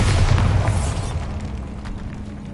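A Bombarda blasting spell goes off in Hogwarts Legacy inside a decayed catacomb, a loud booming burst with a rumbling tail that slowly fades into low ambient hum, no voices.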